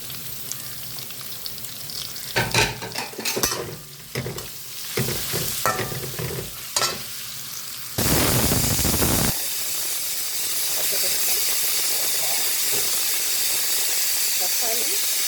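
Onions sizzle in a pan for chicken biryani. Spoon-stirring clatters come first, then a loud, steady hissing fry takes over, with a voice talking at times.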